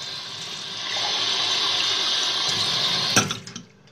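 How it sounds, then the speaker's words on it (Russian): Water pours into a mug in a steady hissing stream that builds slightly as it fills, then stops with a clunk and brief rattling at the end. "наливаю туда воду"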